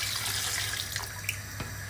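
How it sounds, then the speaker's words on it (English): Water from pitchers pours into a pot of seared goat meat, giving a steady, close rush of running, splashing water for the full two seconds with no talking. "I'm now going to be pouring in 2 pitchers of water."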